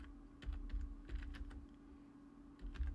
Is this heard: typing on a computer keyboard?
yes